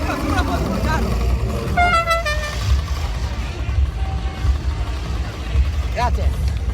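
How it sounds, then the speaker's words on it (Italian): A car horn honks a few short toots at a street parade or festival, under crowd noise and talking voices, with a low traffic rumble throughout. "puoi dare di clacson, una clacsonata?"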